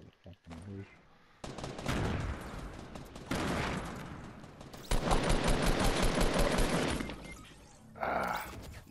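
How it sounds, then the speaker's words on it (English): Gunfire in Fortnite Battle Royale: loud, dense bursts of rapid shots with sharp cracking impacts, coming in waves with short lulls, and a voice briefly heard near the end. "We're getting shot at."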